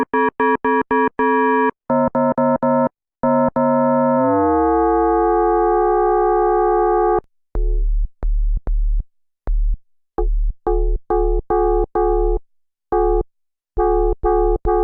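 An FM synthesizer bass plays in short, punchy stabs with a buzzy, metallic tone, with one long note that bends and sweeps before the rhythmic hits resume.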